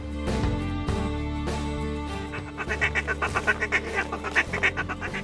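Mallard duck calls run during a waterfowl hunt, a quick rhythmic series of quacking pulses rising over a steady music bed in the second half.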